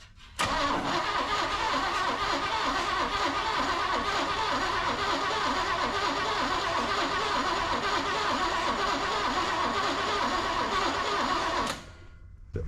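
A Big Block Chevy engine, a candidate replacement for a '72 C10, is turned over on the starter with the fuel pump disconnected. It cranks steadily and rhythmically, loud and close, for about eleven seconds without catching, then stops.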